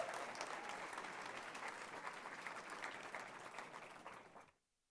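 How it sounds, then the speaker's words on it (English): Audience applause for four volunteers called up to a stage, a dense, steady round of clapping that holds at an even level for over four seconds before stopping abruptly. "We give a round of applause to my 4 volunteers."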